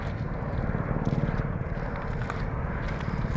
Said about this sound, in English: There's like chopper tours going all the time.